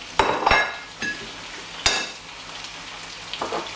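Tomatoes, chopped coriander stalks and sweet pepper hit a hot pan for a vegetable omelette, giving a few sharp sizzling bursts and clinks of a utensil against the pan, then a quieter background crackle.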